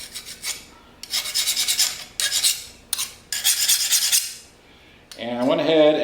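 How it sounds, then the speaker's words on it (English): A metal file skates across the hardened blades of two freshly made fillet knives in a series of harsh, close rasping strokes with short pauses between them, ending in a brighter metallic scrape. "Both blades are skating the file."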